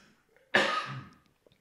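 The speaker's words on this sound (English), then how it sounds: "So I've got a bit of a cough." A single close cough from an adult man in a quiet room, one sharp burst that tails off over about half a second, heard on its own with no talk around it.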